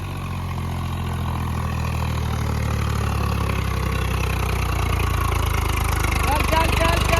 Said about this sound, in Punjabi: ਹੁਣ ਇਹ ਟਰੈਕਟਰ ਆਪਣਾ ਪਿੱਛੇ ਰਹਿ ਗਿਆ ਸੀਗਾ ਹੁਣ ਇਹ ਵੀ ਆਉਂਦਾ ਹੈਗਾ